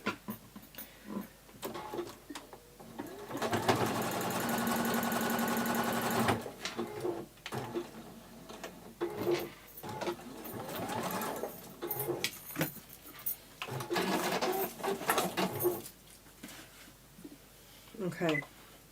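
Domestic sewing machine stitching across the end of a fabric piece while making a cosmetic bag, a steady continuous whir for several seconds near the start, with short bursts of stitching and handling noises later and a voice talking in between.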